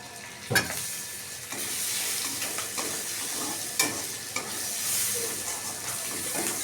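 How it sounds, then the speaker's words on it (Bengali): Green chillies and whole cumin seeds hit leftover fish-frying oil for tempering, producing a loud, continuous sizzle with sharp pops and a few clinks as the pan is stirred; no one speaks. "কাঁচা লঙ্কা আর গোটা জিরে যে তেলটা ছিল মাছ ভাজার ওই তেলের মধ্যেই আমি এটা ফোড়নে দিয়ে দিলাম"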